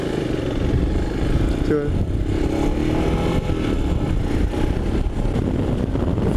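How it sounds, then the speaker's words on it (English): Motorcycles on an open highway between Mumbai and Goa produce a loud, continuous engine drone heavily mixed with rushing wind, while a rider speaks briefly over it. "we finally got some open stretch of road to let these engines loose a little bit"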